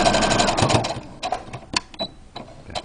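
Sewing machine back-stitching a fabric face mask, first a loud close run of rapid needle strokes, then scattered short stitches and clicks as the fabric is worked back and forth.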